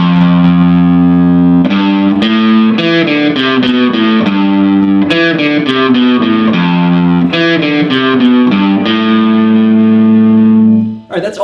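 A distorted electric guitar plays the repeating main lead riff of a song in sustained, bending notes from the natural minor scale, loud and saturated, ending with a brief fade.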